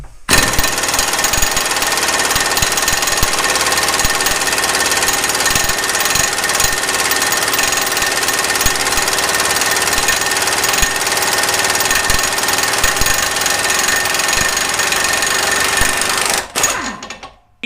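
Snap-on 3/8-inch impact gun removing a fastener, loud continuous rapid hammering rattle sustained for many seconds before stopping abruptly.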